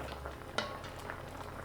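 Salted tapioca boiling in a pot of water, a steady low bubbling simmer with a brief sharper clink partway through, heard alone at moderate-to-quiet level.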